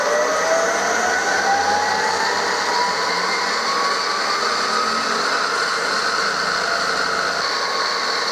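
A sharpening machine's motor spinning up, a steady loud whine with a tone that rises slowly as the speed climbs, humming continuously throughout.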